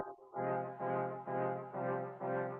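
Old-style brassy horn stabs in a dramatic hip-hop beat, a sustained, rich chord pulsing in four swelling hits, moderately loud and heard alone without voices.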